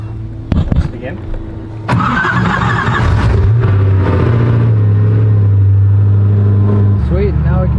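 A Koenigsegg supercar engine cranks and fires into a loud, steady idle close by, with a sharp start burst followed by a sustained low rumble, while voices talk over it.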